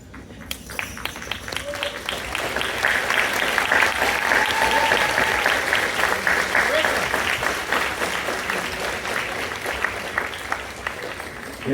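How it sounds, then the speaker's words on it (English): A large crowd at a school graduation ceremony applauds steadily for several seconds, a dense wash of clapping that swells and then thins out toward the end. "applauding your parents and families and friends who supported you"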